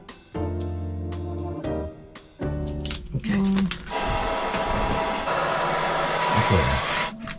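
A battery-powered hair dryer whirs loudly in bursts, switching on and off a few times, then runs with a rushing airflow while clattering handling noises occur nearby.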